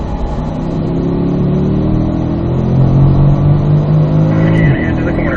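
A Corvette engine pulls hard after an upshift into fourth gear on a racing circuit, a loud close steady drone climbing in pitch before easing off near the end.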